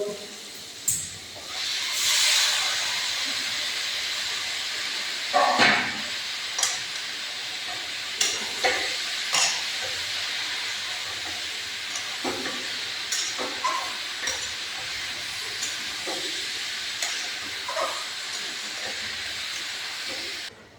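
Bottle gourd tipped into frying garlic paste sizzles with a steady broad hiss, broken by sharp spattering pops and pan clatter early on, then settling to a continuous fry with occasional crackles and no talk.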